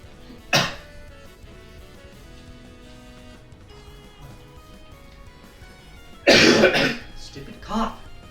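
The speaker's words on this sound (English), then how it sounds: "Stupid cough!" A person coughs twice: one short, sharp cough early, then after a quiet stretch a longer, harsh cough fit with a smaller trailing cough close behind.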